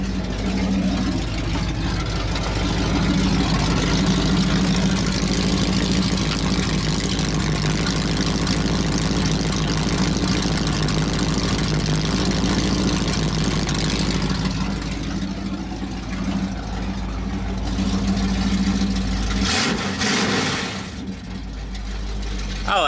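A 1969 Impala with 3-inch dual exhaust and Summit Racing mufflers idles loudly and steadily with a deep, throaty rumble that continues for about twenty seconds before easing slightly near the end.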